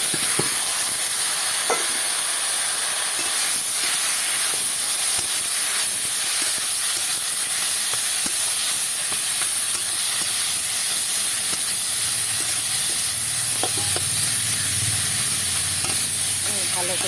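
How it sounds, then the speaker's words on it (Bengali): Chopped bottle gourd goes into a hot pan with mustard, giving a steady, loud, broadband sizzle and hiss that continues without a break, with faint stirring knocks now and then. "এবার এই যে কেটে রাখা আমার লাউটা দিয়ে দিচ্ছি"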